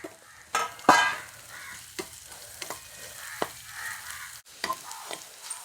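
Chili flakes and curry leaves frying in hot oil in a pan, a soft steady sizzle broken by sharp crackles and pops and a few scraping stirs, close and fairly quiet with no talk.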